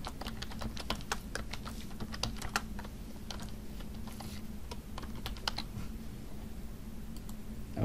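Fast, irregular clicking of computer keys as a chart title is typed, a steady run of light taps over a low background hum.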